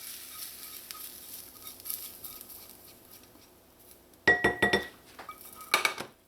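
Softened onions are mixed into eddoe mash in a bowl: soft scraping at first, then sharp clinks and knocks of a utensil against the bowl in quick bursts, close and without talk.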